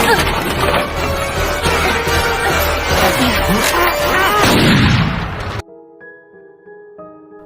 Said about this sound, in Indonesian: Beruntung Julian berhasil mengambil senapan dan peluru dari dalam kotak. Tak ada pilihan lain, ia pun terpaksa menembak pria tersebut.